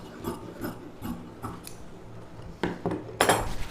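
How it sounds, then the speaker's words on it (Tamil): Scissors snip through silk saree blouse fabric during pa neck blouse cutting, a series of short crisp cuts spaced about half a second apart, then a louder rasping burst of blades and cloth near the end, close and alone. "இதை அப்படியே நம்ம கட் பண்ணி எடுத்துக்கலாம்."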